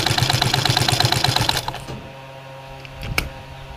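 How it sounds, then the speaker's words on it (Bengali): A sewing machine runs in a fast, steady stitching burst along the edge of gown fabric, then stops, leaving quiet handling noises and a brief rustle. "এখন একদম কিনার দিয়ে একটা সেলাই দিয়ে নিব"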